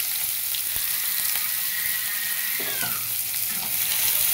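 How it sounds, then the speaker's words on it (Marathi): Onion drops into hot oil with cumin in a kadhai and fries with a steady, loud sizzle, and a brief stirring scrape comes partway through. "हे बघा, कांदा टाकून घेते."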